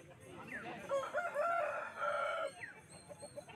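Roosters crow and hens cluck at a rural chicken market in Jhargram district, West Bengal, a drawn-out crow rising over low background murmur, moderately distant and fairly faint.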